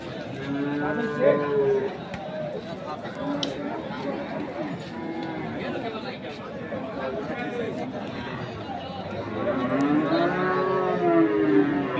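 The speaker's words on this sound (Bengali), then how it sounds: "একটা ক্রস গরু দেখছেন।" Several cattle, including crossbred cows, moo in long drawn-out calls amid a crowded cattle market, with people chattering and talking throughout.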